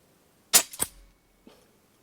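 A Snowpeak M25 air rifle firing a JSB heavy pellet at a target 30 metres away outdoors: one sharp close crack followed by a quick second snap, then a faint distant impact tick about a second later.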